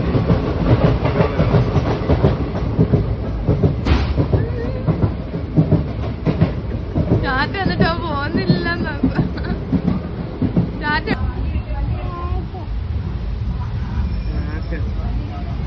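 A train rolls along its rails with a steady rumble and clatter from inside a carriage. The noise is loud and continuous, with voices murmuring underneath.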